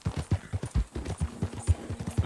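Horse hooves clip-clop steadily in Red Dead Online, a quick, even run of close, muffled thuds from a slow mount, with a faint game tone underneath and no talking.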